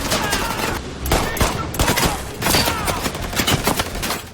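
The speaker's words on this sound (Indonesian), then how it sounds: "Tembakan di sini, di sana" Rapid bursts of gunfire from a film action scene in which a former hitman's allies ambush a gang, with dense overlapping shots and loud volleys throughout.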